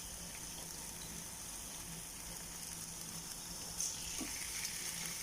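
Beef steak half-cooking in a pan gives a soft, steady frying hiss at low level, with a brief clink of utensils near the end and no talking.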